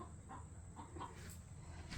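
A hen clucks softly in a backyard chicken coop while she gets ready to lay an egg, giving a few faint, scattered clucks over a steady background hiss.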